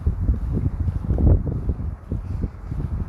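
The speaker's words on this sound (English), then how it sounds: "I hope the wind isn't too much." Wind blowing outdoors in woodland buffets the microphone in low, uneven gusts that swell and fade over a few seconds, with no talking.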